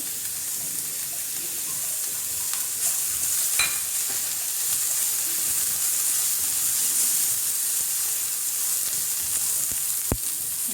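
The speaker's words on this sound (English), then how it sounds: "saute everything well" Vermicelli upma ingredients sautéed in a pan over the lowest flame give a steady, close sizzle, with light stirring scrapes and a few sharp clicks throughout.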